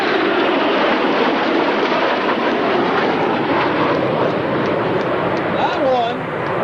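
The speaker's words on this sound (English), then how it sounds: "the latest, the greatest, the best airplane that the military has to offer right now" An F-22 Raptor fighter jet at the 2008 Atlantic City Airshow roars in a loud, sustained broadband rush that fills the whole stretch, with a commentator talking over it on the public address.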